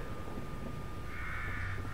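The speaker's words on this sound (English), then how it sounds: "Here, crows." Crows cawing in The Evil Within, a survival horror game, heard as faint, distant calls over a dull low rumble of game ambience.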